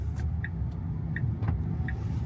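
A Tesla Cybertruck driving along offroad, giving a steady low rumble of tires and road noise with a few faint high beeps over it, continuous and fairly close.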